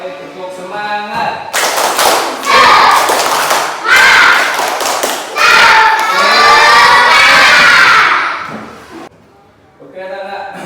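A class of schoolchildren loudly shouts a rhythmic 'tepuk semangat' clapping chant, with group voices and claps in bursts for several seconds before dropping off near the end as a lone voice returns.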